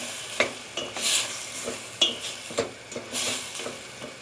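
A spoon scrapes and stirs around a hot pot of kelle paça in a quick, uneven rhythm, with sizzling frying underneath and occasional sharp clinks against the metal.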